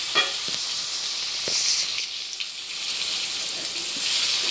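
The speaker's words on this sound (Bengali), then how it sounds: "ভেজে নিব আমি পেঁয়াজটা।" Crushed onion fries in hot oil with a loud, continuous sizzle and crackle. Faint stirring taps sound underneath, with no talking.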